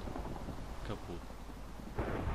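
Rumbling thunder and steady rain from a storm in the Minecraft Pixelmon Pokémon mod, a continuous low roar that swells loudly near the end, with faint talk mixed in.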